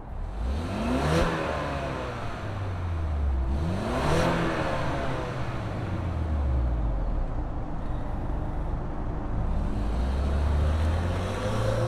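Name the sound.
2025 Ford Explorer ST-Line 4-cylinder turbo engine accelerating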